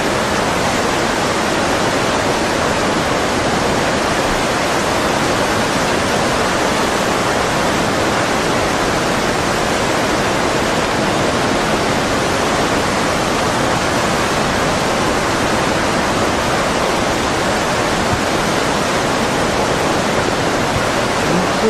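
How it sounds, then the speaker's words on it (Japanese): Tsunami floodwater rushes through Minamisanriku with a loud, unbroken broadband roar like a torrent, steady and overwhelming for the whole stretch. "ただこんな津波来てはね、"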